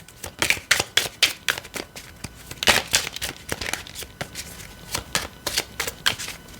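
An oracle divination deck being shuffled by hand, with loud, close, rhythmic bursts of card slaps and riffles repeating steadily and no voices.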